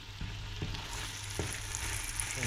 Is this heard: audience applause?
no